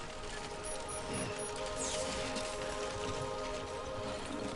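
Rain falls in the video game Death Stranding, a dense, steady patter and hiss spread evenly across the scene, moderately quiet and continuous with no talking.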